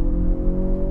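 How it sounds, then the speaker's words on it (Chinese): A Kia Sportage in Sport mode plays its simulated V6 engine sound at maximum volume. It is a steady, loud, low droning hum, heard alone without talk. "它听起来就确实是有像 V6 引擎声浪的感觉"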